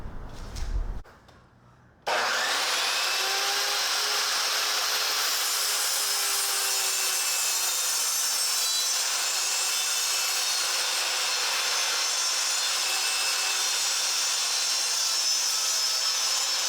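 A saw cutting wood boards for a raised garden bed: after a few quiet seconds it kicks in abruptly, then runs as a loud, continuous, even cutting whine to the end, with no talking.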